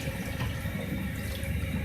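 About a glass of water pours into browned beef hara keema in a cooking pan, producing a continuous, even rushing hiss and sizzle that holds steady for the whole short stretch, close by and alone without speech.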